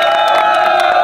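A crowd applauds and cheers for a team at a public celebrity-prank shoot, a brief, loud burst of clapping mixed with shouting and whoops.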